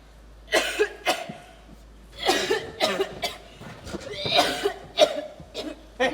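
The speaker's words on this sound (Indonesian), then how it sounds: "Batukmu akan menular padaku, tahu?" Several harsh coughs in bursts, close and loud, with a few short pauses between them.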